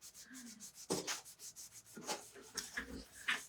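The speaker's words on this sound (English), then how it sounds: "I'm just putting a little bit of wax on these" Clear paste wax being rubbed by hand onto small wooden stars, giving close, soft scuffing strokes in irregular bursts with brief pauses between.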